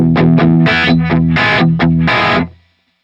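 Electric guitar recorded direct through the Citrus amp model in Guitar Rig software, with a dark, distorted tone: several loud chord stabs in quick succession, then a final ringing chord that cuts off, alone.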